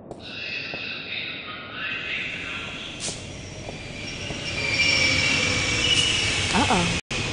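A subway train in the video game The Longest Journey rumbles steadily on its rails, its wheels squealing high and metallic, and the noise swells as the train draws nearer, then cuts out abruptly near the end.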